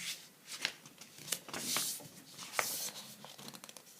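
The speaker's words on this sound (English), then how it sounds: "Now I'm going to fold that one in half" A paper card is folded in half by hand for a craft piece, giving crisp, close crinkles and rustles in several short bursts with no one talking.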